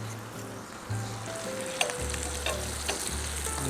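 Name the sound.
butter sizzling in a hot pan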